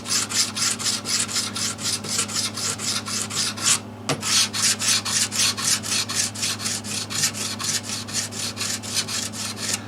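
A file rasps along the guitar frets of a 1991 PRS Custom 24 in fast, even back-and-forth strokes, close and scratchy, with one short pause midway before the rhythm resumes.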